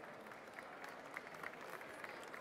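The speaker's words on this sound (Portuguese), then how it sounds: "Uma salva de palmas para o o Henrique" Applause from the audience at a wine-and-food event in the Azores for a chef, a soft, distant patter of many hands that stays fairly even, with no clear voices.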